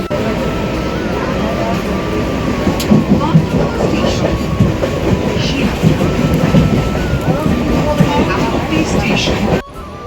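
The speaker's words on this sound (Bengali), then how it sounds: "ফাইনালি আমাদের কিন্তু ট্রেন চলে এসেছে, এবার আমরা ট্রেনে উঠবো" A passenger train rumbles loudly and close by, with rhythmic clattering of wheels on rails and occasional squeaks, continuing throughout.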